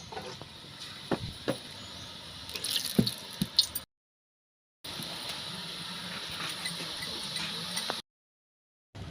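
Gram flour murukku dough is pressed into hot oil in a pan for village-style frying, with soft sizzling hiss and wet squishing and dripping sounds, broken by brief silent gaps.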